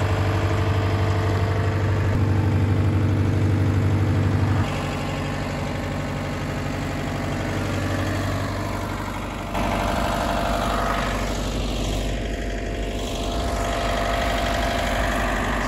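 A tractor engine running at a set throttle on a farm while feeding cows, a steady loud low drone with no talk.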